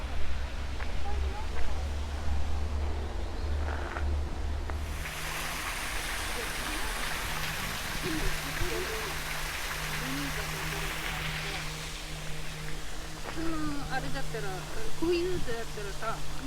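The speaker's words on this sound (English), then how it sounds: "here we are coming closer to the waterfall" Waterfall in a Japanese landscape garden at Kyu Furukawa Garden, fed by a natural drop in ground level; a steady broadband rush of falling water swells as it comes closer, with a person talking over it.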